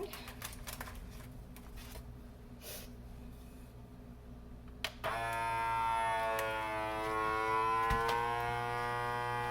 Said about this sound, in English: And vacuum all the air out of it